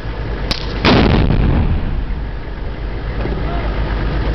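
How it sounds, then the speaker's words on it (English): An explosive ordnance disposal team sets off a controlled explosion outdoors, a single loud blast that booms and then rolls away in a long, heavy rumble. "Get fire in the hole!"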